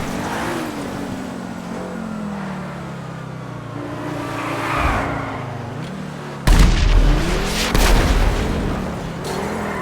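Jet in GTA Online strafing near players with cannon fire, a steady roaring engine drone sweeping past, then a loud burst of heavy booming impacts in the last few seconds.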